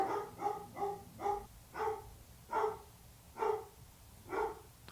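Dogs bark at home in a steady series of about eight sharp, evenly spaced barks at moderate distance, with no talking in between.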